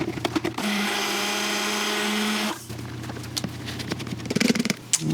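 A kitchen blender whirs steadily for about two seconds, mixing liquid eggs for carnivore beef protein noodles, then cuts off, leaving light clatter and handling noises.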